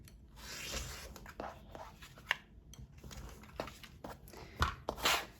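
Paper and fabric being cut, with crisp snips and rustling scrapes in irregular bursts, close up, with no talking.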